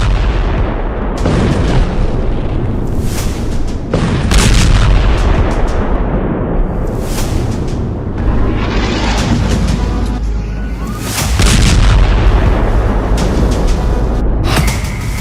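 Explosions from an Israeli strike on Yemen boom out loudly and repeatedly, heavy blasts and rumbling rolling over one another with no voices throughout.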